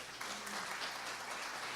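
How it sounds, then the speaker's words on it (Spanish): Church congregation applauding during an evangelical Spanish-language sermon, a dense, steady wash of clapping from a crowd, moderately loud and continuous through the short moment without voices on top. "Dele un aplauso al Rey."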